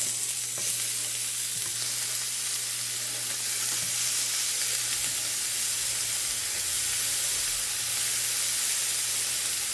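Beef heart and beef stew meat sear in a smoking-hot oiled pan, giving a loud, steady, dense sizzle and hiss that holds without a break from start to finish.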